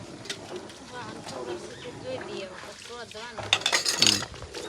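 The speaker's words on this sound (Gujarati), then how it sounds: "પરિકા તો વાસણ ધોવાઈ છે અહીં" Dishes are washed at home with clinks and clatter of metal pots and utensils, a louder clanking burst near the end. Voices and birdsong run underneath.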